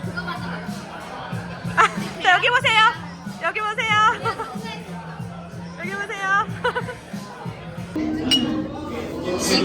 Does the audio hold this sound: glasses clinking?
yes